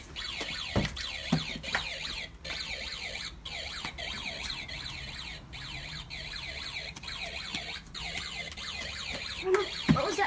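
An alarm sounds continuously, a rapid warbling electronic siren sweeping up and down in pitch at a steady, moderate level, with a few faint thumps and a brief voice in the background.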